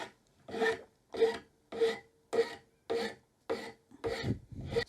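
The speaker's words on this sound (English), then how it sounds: "smoothing all of those rough marks out with a much finer file" A fine file smoothing a ferro rod handle, eight even rasping strokes in a steady rhythm, close and clear with short pauses between each pass.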